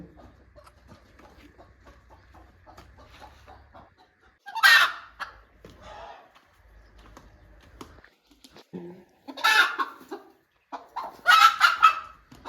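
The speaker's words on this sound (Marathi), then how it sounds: "कोंबडी आपण याच्यावर बसवणार आहे" A broody hen being set on a clutch of eggs clucks nearby in three short, loud bursts separated by quieter pauses with faint background noise.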